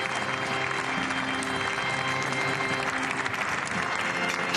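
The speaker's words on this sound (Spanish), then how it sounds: "todos aplaudiendo al nuevo Papa" A large congregation applauds the new Pope at his first Mass, with steady, dense clapping that fills the whole stretch over a reverberant background hum.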